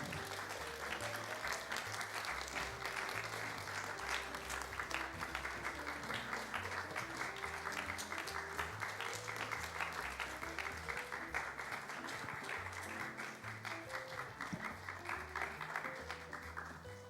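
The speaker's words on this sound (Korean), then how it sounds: "새가족 나올 때 큰 박수 부탁드립니다" Sustained applause from a congregation at a Sunday youth worship service, welcoming new members as they come forward; steady dense clapping throughout, with a low musical accompaniment underneath and no talking.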